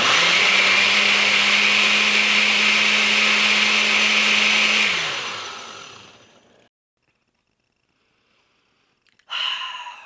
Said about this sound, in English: I'm just going to blend it.